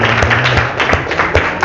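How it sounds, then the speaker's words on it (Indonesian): A classroom of students gives a group a brief round of applause, many hands clapping together in a dense, close burst that lasts only a moment. "Oke, sekali lagi berikan tepuk tangan."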